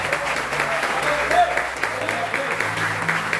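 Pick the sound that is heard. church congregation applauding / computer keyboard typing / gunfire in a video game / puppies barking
church congregation applauding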